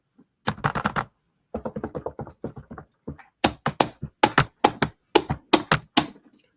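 Series of sharp knocks acted out by hand, struck in quick clusters of three to six with short pauses between groups, close and fairly loud with no voices.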